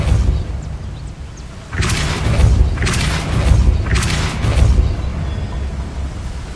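Depulso spells are cast in the Hogwarts Legacy video game, setting off several deep booming blasts with rumbling bursts that follow one another over a few seconds.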